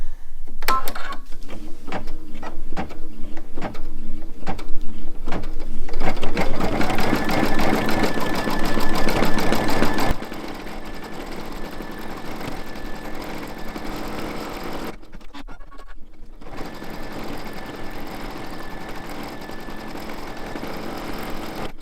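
An embroidery machine stitches blanket stitches around appliqué berries, a loud, rapid mechanical chatter that runs steadily, eases slightly midway, then continues with a brief pause near the end.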